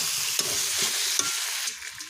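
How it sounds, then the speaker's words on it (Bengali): Potatoes are stirred and fried in spice paste, a close crackling sizzle punctuated by a few sharp spatula knocks and scrapes, fading toward the end with no voices. "এখন মশলার ভেতরে আলুগুলো দিয়ে একটু ভালো করে নেড়ে চেড়ে কষে নেব।"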